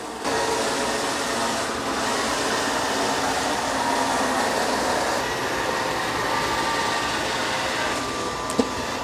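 A Dreame X40 robot vacuum mops over muddy paw prints beside cabinets, giving a steady, close whirring hum that holds level throughout with a small click near the end.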